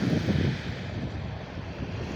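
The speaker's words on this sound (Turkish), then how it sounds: "Acayip derecede sakin bir deniz." Calm sea on the Trabzon shore washes in a continuous low rumble of gentle surf, mixed with steady wind buffeting against the microphone and no voices.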